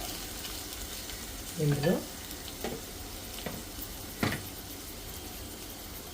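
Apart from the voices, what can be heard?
ivy gourd frying in oil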